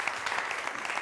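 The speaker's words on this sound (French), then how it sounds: "Applaudissements pour Augusta." Applause for Augusta at a French café talk event, a short burst of dense, even clapping from an audience lasting about a second.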